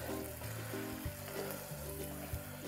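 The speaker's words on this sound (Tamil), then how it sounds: "ஓகே, இது நல்லா கொதிச்சிருச்சு." Meal maker pepper masala gravy bubbling in a pan, a soft, continuous low simmer with faint popping, quiet and close, with no one speaking.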